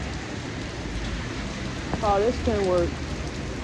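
Heavy rain pours steadily as a broad, constant hiss, and someone talks briefly over it near the end.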